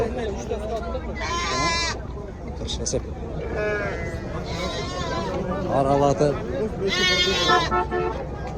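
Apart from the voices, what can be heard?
sheep and rams bleating at livestock market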